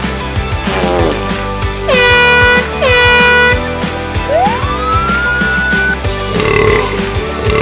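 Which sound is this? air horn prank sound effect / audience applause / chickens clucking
air horn prank sound effect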